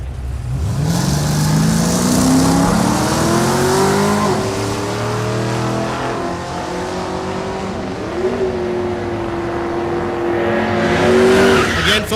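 At a drag strip, a 2004 Chevrolet Silverado pickup and a 1972 Nova launch with loud, close engine roars climbing in pitch through gear changes, then holding a sustained rising drone before fading.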